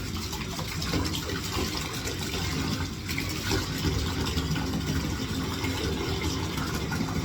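Tap water runs steadily and loudly while a CPAP humidification chamber lid is rinsed under it, an unbroken gushing splash with no voices.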